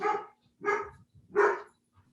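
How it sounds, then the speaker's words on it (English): Three short barks from a dog, evenly spaced about half a second apart, fairly close and moderately loud with no talk over them. "I'm talking about the dog."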